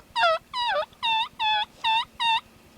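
Merriam's wild turkeys gobble outdoors during a spring hunt, six loud, evenly spaced harmonic gobbles rising over a low rumbling background, with no talking.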